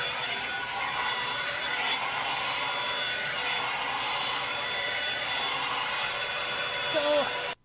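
A hair dryer blows heat steadily over a budget-friendly wig being restyled, a constant close airy roar throughout that cuts off abruptly at the end.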